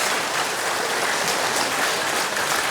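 Audience at a Hindi talk on stress management and positive thinking applauds, a steady, dense wash of clapping that fills the whole stretch without pause.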